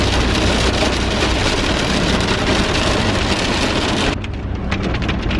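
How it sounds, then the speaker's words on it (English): Heavy rain drums steadily on a moving car, a dense continuous wash of drops on the roof and windshield that eases slightly near the end; no one speaks. "we are just on our way to Princeton now, coming to some heavy rain"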